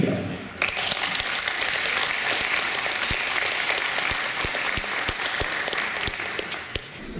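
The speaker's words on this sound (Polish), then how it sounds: "Wielkie brawo." Applause from an audience at a culture award ceremony honouring a laureate, steady and sustained across the whole stretch with a few sharper claps standing out, with speech faint beneath it.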